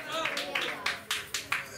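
A congregation clapping during a Telugu church sermon: sharp, sparse claps at an uneven beat, moderately close, with a preacher's voice continuing underneath.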